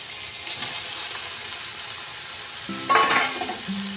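Potato and cauliflower pieces go into hot spiced oil in a pan for a Bengali egg curry. A steady soft sizzle is broken by a sudden louder crackle and stir near the end, with a clink of a utensil.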